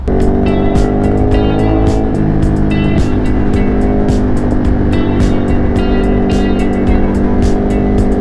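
Ducati Monster 937 SP motorcycle on a race track, its engine droning loud and steady throughout with shifting revs and rushing wind noise, no talking.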